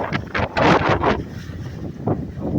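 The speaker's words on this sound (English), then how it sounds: "it's really windy." Strong wind at Remi Lake buffets the microphone in loud irregular gusts and rumbling bursts, close and rough, with faint water movement underneath.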